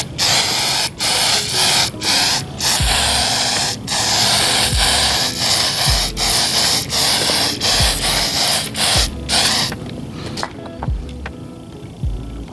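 Paint stripper sprayed from a can onto a car valve cover, short repeated hissing spray bursts at a steady rhythm, close and loud, followed by a quieter tail.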